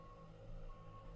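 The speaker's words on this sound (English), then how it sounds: "I don't know why it's beeping." A steady, faint warning beep sounds in an X-Plane flight simulator cockpit over a constant low hum of engine and ambient noise.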